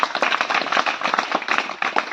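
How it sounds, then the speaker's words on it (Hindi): A congregation claps together at a church service, a dense, steady wash of many hands ringing out close and loud without pause. "ताली बजाओ प्रभु का"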